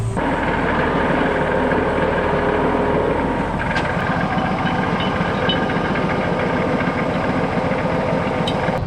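A Case IH Magnum tractor's heavy diesel engine idles steadily at close range, a constant low rumble with a faint knocking texture and no voices.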